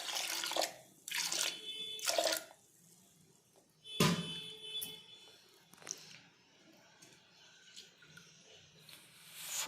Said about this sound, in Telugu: ఇది ఉడకబెట్టడానికి కొన్ని వాటర్ కూడా వేసుకుందాం